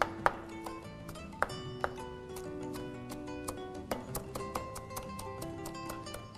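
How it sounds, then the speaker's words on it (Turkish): A knife finely chops fresh greens on a board in an Anatolian home-style kitchen, giving a quick, uneven series of crisp taps that stay close and moderately quiet, with no voices over them. "Hemen yeşilliğimizi ince ince doğramaya başladık sevgili izleyenlerimiz."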